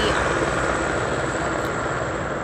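A steady rotor roar drones throughout, loud and close, like a helicopter passing overhead, with no voices.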